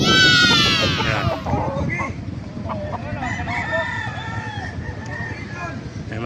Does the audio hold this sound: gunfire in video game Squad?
no